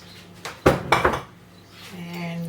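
A quarter-cup measure clinks against a metal bowl or dish as plain all-purpose flour is scooped, with a few sharp close knocks and scrapes, then a low background hum.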